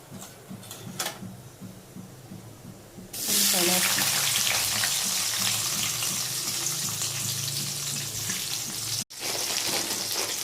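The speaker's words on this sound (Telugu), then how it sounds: "అవి వేగుతున్నాయి" Mustard seeds, cumin and lentils hit hot oil for wheat rava upma and break into a loud, steady sizzle after a quiet start, with a voice speaking under it.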